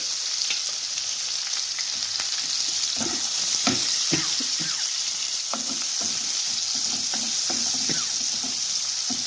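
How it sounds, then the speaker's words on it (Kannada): Long-cut sliced onion fries in a pan for paneer rice, a continuous sizzle broken by repeated spatula stirs and scrapes, close and fairly loud, with no talk. "ಈರುಳ್ಳಿನ ಚೆನ್ನಾಗಿ ಫ್ರೈ ಮಾಡ್ಕೊಂಡಿದ್ದೀನಿ."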